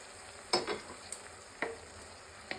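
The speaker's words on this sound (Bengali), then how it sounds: "দিয়ে দিচ্ছি মশলা ধোয়া জল।" Spice-rinse water goes into a pan of frying koi fish, bringing a quiet, soft sizzle broken by four distinct spatula clinks and scrapes spaced across a few seconds.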